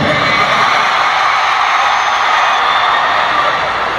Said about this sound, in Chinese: 这边尖叫一下吧